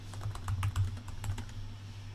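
Typing on a computer keyboard to write a reply, a quick irregular patter of key clicks close to the microphone over a steady low electrical hum, with no talking.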